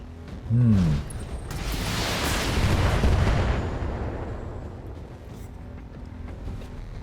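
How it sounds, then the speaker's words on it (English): Automated turrets firing in the BattleTech video game, a heavy artillery-like boom opening into a long rolling rumble of gunfire and blasts that slowly fades, dense and loud, with no voices over it. "Let the turrets do their thing"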